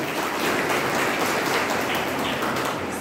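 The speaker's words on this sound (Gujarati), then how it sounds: "એના માટે એક જોરદાર તાળી થઈ જાય." An audience claps loudly at an International Women's Day event in a commerce college, dense continuous applause sustained for the full stretch without pause.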